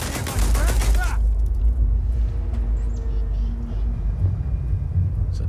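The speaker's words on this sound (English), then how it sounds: "It's a turret." A turret in the game Starfield fires a loud, dense burst of rapid shots in the opening second, then the fire stops and a low rumble with faint background effects remains.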